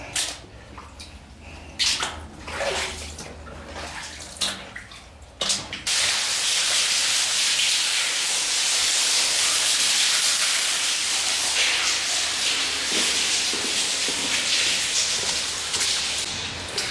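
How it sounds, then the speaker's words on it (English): Steady hissing rush of water leaking over a tunnel wall in a Minnesota storm drain pours continuously after a few scattered splashes and knocks, echoing faintly in the enclosed space. "4 feet of water on the other side of this wall that's just naturally leaking over"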